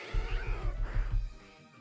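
A house cat at the door gives one drawn-out, pulsing meow, close and clear, with nothing else in the background.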